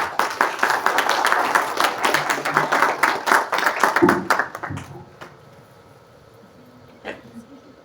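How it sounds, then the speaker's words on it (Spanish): A seminar audience on violence in the 21st century claps loudly for a speaker's introduction, dense steady applause lasting about four seconds, then fading quickly into quiet room tone with a few stray claps. "Un fuerte aplauso"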